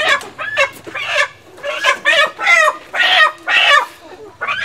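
Chickens at a Vietnamese market give a loud, close series of repeated clucks and squawks in regular bursts, with brief human voices mixed in.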